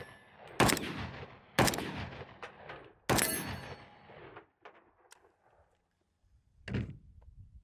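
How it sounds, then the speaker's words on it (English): Three loud, sharp Draco pistol gunshots ring out about a second apart at an outdoor shooting range, each with a ringing echo, followed by a quieter pause and one more softer shot near the end. "get the offhand shots with the DRACO"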